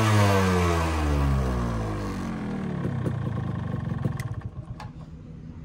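A Yamaha RX 135 5-speed motorcycle engine, fully restored, running close by: a loud droning note that sweeps downward, then turns into a rough, pulsing rasp that gradually fades.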